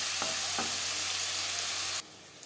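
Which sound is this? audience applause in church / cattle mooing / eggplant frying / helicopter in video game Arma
eggplant frying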